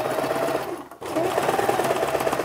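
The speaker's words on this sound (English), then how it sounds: "So I'll go over the beginning and lock stitch." A sewing machine runs a lock stitch over the start of the hem on an Iro and Buba garment, a steady close whirring chatter that stops briefly for a beat, then resumes.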